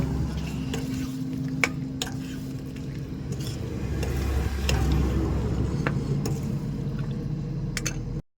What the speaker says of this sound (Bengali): এবার ভালো করে নেড়ে নেব।